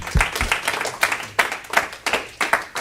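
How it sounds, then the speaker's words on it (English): A church congregation claps for a visiting guest, with loose, rhythmic bursts of hand claps repeating at a steady pace, close and fairly loud. "Let's clap our hands for him."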